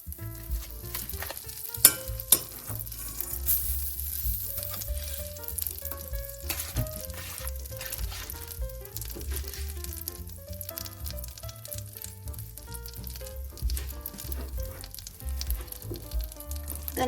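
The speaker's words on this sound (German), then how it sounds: "Ich gebe ein bisschen Butter in einem Topf." Butter sizzles in a pot ahead of adding mustard seeds and chana dal, a steady frying hiss with occasional stirring scrapes throughout, underneath background music.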